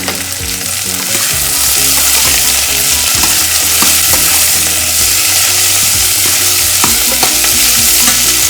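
Cracked wheat upma vegetables (potatoes, capsicum, carrot, green chilli) fried in a pan, a loud, steady close sizzle with rhythmic scraping of a spoon stirring through the mix, no voices.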